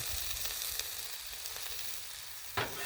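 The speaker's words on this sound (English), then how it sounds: "we've got ghee flavored peaches coming up" Peaches flavored with ghee sizzle on a griddle, a soft, continuous frying crackle with a sharper pop near the end.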